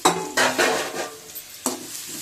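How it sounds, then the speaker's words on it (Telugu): Onions and green chillies frying in a pan with cumin and mustard seeds bring a light sizzle under a few metal spoon scrapes and clinks against the pan, close by, with no talk. "మనము ఈ ఆనియన్స్ని ఇలాగ బాండీల్లో వేయించుకోవాలన్నమాట"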